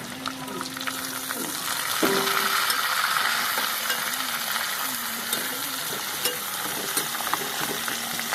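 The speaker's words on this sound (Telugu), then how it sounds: "ఏదో ఇవి వేగుతున్నాయి కదా, ఈ ఉల్లిపాయలు కూడా వేసేసుకున్నాం" Almonds and onions fry in a pan, giving a continuous close sizzle broken by the clinks and scrapes of stirring.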